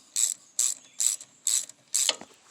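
A ratchet wrench tightens bolts on the hydraulic pump of a Ford 8N tractor, giving five crisp, evenly spaced bursts of clicking close by, the last stroke ending in a brief metallic knock.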